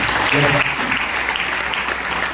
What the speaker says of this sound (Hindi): एक बार इसलिए जोरदार तालियां होनी चाहिए